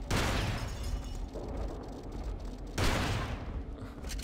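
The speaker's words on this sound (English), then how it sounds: "a couple shots with the shotgun" Two heavy shotgun blasts in the video game Hunter: The Reckoning, each a loud boom followed by a long rumbling decay, heard alone without speech.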